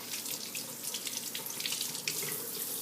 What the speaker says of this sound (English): I'm just going to run a little cold water on it so I don't tear up.